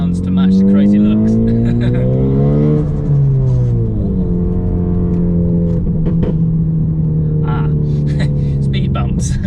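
A loud modified widebody Ford Focus ST, around 500 bhp, drones and rises in pitch close by with occasional exhaust crackles, while people talk over it throughout.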